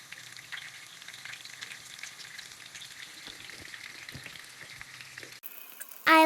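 Chicken pakora fries in oil over a low flame, giving a soft, steady crackling sizzle close by that ends in a sudden louder burst of noise.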